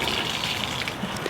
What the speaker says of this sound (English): okay, it wants to spray clear over there. It wants to go really far.